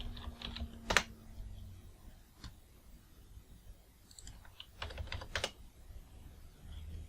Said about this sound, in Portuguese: se eu digitar aqui